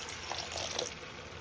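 Lukewarm water poured into chicken curry masala in a pan, a brief soft splashing stream heard close up with no voices.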